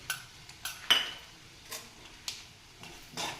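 A spoon stirs a poha and suji snack mixture with spices in a bowl, producing a few scattered light metallic clinks and taps, close and fairly quiet.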